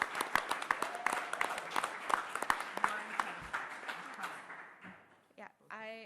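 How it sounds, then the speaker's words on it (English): Audience applause for faculty at an arts prize reception, a dense crowd of clapping that thins out toward the end before a voice begins. "give a round of applause to our amazing faculty"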